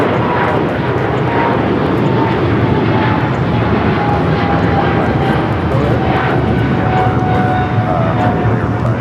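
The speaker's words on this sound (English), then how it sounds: "That was Air China 988 taking off to Beijing on the 777-300ER" An Air China Boeing 777-300ER, flight 988 bound for Beijing, takes off from LAX runway 25 right with a loud, steady, broadband jet roar that holds for the whole stretch.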